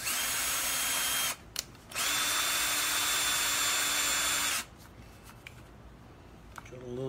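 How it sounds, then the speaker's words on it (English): A power drill bores into a door jamb while a door is being reinforced against break-ins. Two loud, steady whirring runs are heard up close, a short one and then a longer one, with quiet pauses between them and afterward. "We'll drill this one."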